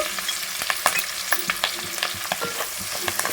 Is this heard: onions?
yes